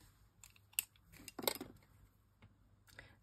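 Scissors cutting paper while making a handmade get-well card: two or three quiet, short snips close by, with soft handling noises between them and no talking.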